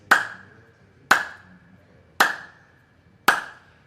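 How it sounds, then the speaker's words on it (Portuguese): Four evenly spaced star claps (palma estrela), a sharp, bright hand-clapping technique, each a crisp close snap about a second apart with quick decay, alone and without talk. "E agora vamos passar para a palma estrela. Olha como o som dela é um pouco mais ardidinho,"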